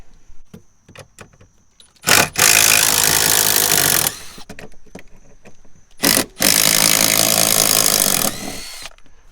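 A power tool loosens 10mm bolts from the dash of a 2015 Ford F150, with two loud sustained bursts of whirring, each about two seconds, between small clicks and taps of handling nearby.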